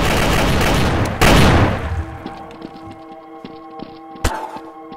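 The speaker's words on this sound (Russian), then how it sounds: "А зачем стрелял тот?" Gunfire in the Garry's Mod DarkRP video game, with a loud dense burst of shots at the start that fades into a ringing tail and then a few sharp single shots.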